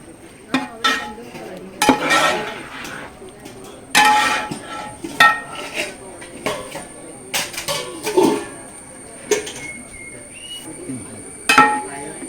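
Cooked tapioca is stirred together with grated coconut in a pot for a Kerala kappa dish, giving scattered scrapes and clinks of a utensil against the pot, some sharp and some soft, at close range.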